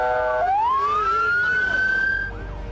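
Fire engine and ambulance sirens on a street in Turkey after an earthquake, a loud wailing siren rising and holding close by, then fading as it passes, with traffic rumble beneath.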